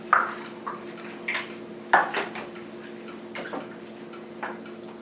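A spoon stirs beef stew with beef gravy in a pot, making a few light clinks and scrapes against the side at irregular intervals over a low steady hum, close and fairly quiet.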